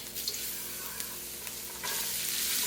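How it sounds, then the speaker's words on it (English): Onion, garlic and herbs sautéing in a tablespoon of oil for Jamaican beef patty filling, a soft close sizzle with light stirring scrapes that grows louder near the end, no voices. "just gonna saute the vegetables and the herbs"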